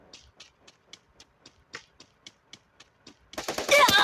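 In the Free Fire video game, gunfire comes as a regular string of faint, evenly spaced shots, then swells into a loud, dense burst of firing at the end.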